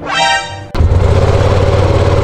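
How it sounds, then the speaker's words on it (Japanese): A Ducati Panigale V2 motorcycle engine fires up after a brief starter whine, settling at once into a loud, close, throbbing idle. "エンジンをかけます"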